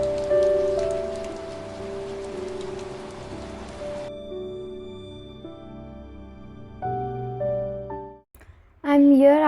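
Rain falls outside in a steady, soft hiss that is strongest early on and then thins, with sustained musical tones playing over it.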